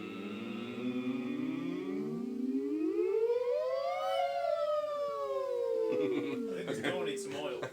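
Two voices imitate a siren together as a singing warm-up, sliding up to a peak and back down in a smooth arc over several seconds, close and fairly loud, with some noisy voice sounds at the end.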